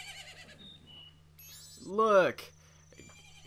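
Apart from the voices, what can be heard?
horse neighing in video game Zelda: Majora's Mask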